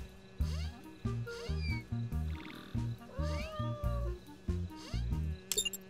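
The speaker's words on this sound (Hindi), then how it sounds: "ये जंगली बिल्ली है।" A cartoon wild cat meows several times in rising and falling cries over rhythmic background music.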